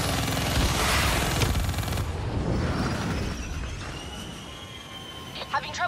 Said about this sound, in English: Target locked. Firing.